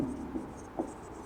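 Short scratchy strokes of a pen writing, a few soft bursts close by during a NEET physics lesson on Ohm's law, set against a quiet room hum.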